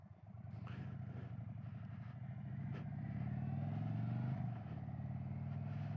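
A 2023 Indian Chief motorcycle rumbles along as it is ridden, its deep, steady engine drone building toward a louder pull before easing back, with no talk over it.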